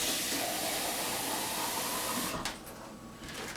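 Water is poured from a can into a pan of tomatoes in a kitchen, a steady close rushing splash that runs for over two seconds and then cuts off.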